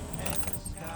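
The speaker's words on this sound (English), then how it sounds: "Will you pull those keys out, please?" Keys jangle inside a vehicle during a drive across a flood-affected ranch, a brief close metallic rattle over steady road and engine rumble, with a voice faintly present.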